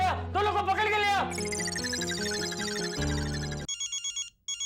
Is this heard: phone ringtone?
yes